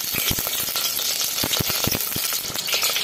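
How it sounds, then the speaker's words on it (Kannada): Whole spices frying in hot ghee for a vegetable pulao, a steady crackling sizzle with frequent sharp pops and spits throughout, close and fairly loud with no talking. "ನೋಡಿ ತುಪ್ಪ ಎಲ್ಲ ಬಿಸಿ ಆಗಿದೆ. ಇವಾಗ ನಾನು ನೆನೆಸಿ ಇಟ್ಕೊಂಡಿರುವಂತ ಮಸಾಲಾ ಐಟಮ್ಸ್ನೆಲ್ಲ ಹಾಕ್ತಾ ಇದ್ದೀನಿ."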